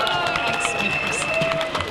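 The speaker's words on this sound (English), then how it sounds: "Give her a big round of applause." A crowd at an outdoor demonstration claps and cheers continuously, with voices and whistle-like tones mixed in over two seconds.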